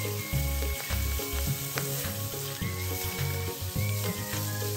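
Shredded chicken stir-fried with dried shrimp in a hot wok, loud crackling sizzle under a repeated low scraping and tossing of the spatula, close and busy, with no talk.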